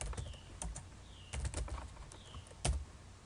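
Keystrokes on a computer keyboard entering commands at a Metasploit prompt, a steady run of close, crisp clicks in small irregular bursts with a couple of heavier presses, no voice over them.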